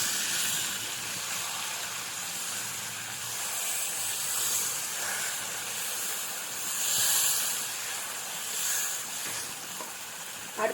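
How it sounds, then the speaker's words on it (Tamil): Ground curry leaves hit hot oil in a pan for curry leaf thokku, raising a steady broadband sizzle and hiss that carries on for several seconds without pause. "இதுக்குள்ளே நம்ம அரைச்ச கருவேப்பிலையை கொட்டிக்கலாம்"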